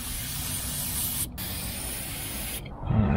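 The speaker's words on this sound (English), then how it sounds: "Let's spray this down." An aerosol can of thread locker hisses in two close bursts with a brief pause between them, ending with a short clatter, during a Dodge RAM steering box install.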